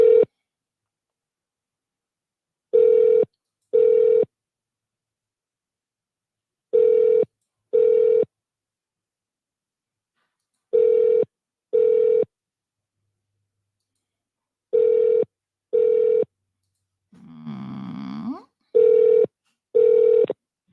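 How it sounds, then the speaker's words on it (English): Telephone keypad dialing heard as paired tone bursts repeating in sets across the line, with a brief burst of other noise near the end; clear, close and with no talk over it. "let's make some phone calls"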